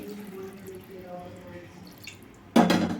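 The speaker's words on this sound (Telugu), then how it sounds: "కరెక్ట్గా ముక్క మునిగే ఎవరికైతే వాటర్ పోసుకుందామండి" Water is poured into a pot of Rayalaseema-style country chicken curry, a sudden loud splashing gush near the end that follows a stretch of quiet talking.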